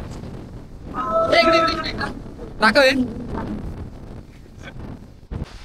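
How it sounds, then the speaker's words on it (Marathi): Strong wind gusts across a mountain trek, buffeting the microphone with a low rumbling roar under a person talking loudly nearby. "मजबूत वारा आहे मजबूत"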